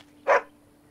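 A single short dog bark, close and fairly loud, standing alone against a quiet background.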